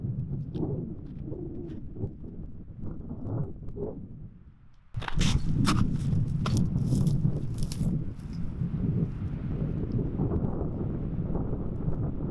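Strong cold wind on an open hillside buffeting the microphone, first a softer gusting rush, then a sudden louder roaring blast that stays steady and heavy.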